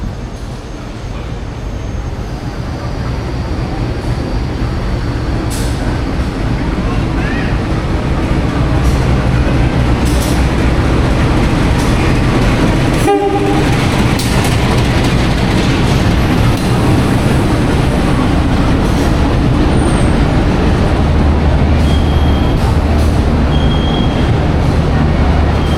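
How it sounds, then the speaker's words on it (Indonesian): A local train pulls into Gubeng station in Surabaya with a loud, steady rumble of wheels and engine that fills the whole stretch. A sharp clack sounds midway, and faint high squeals come near the end. "kereta apinya sudah datang"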